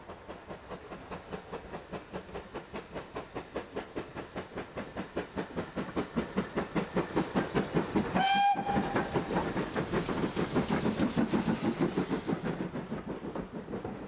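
A British train rumbles past close by with steady rapid clickety-clack from the wheels, building in loudness, and a short whistle sounds midway through.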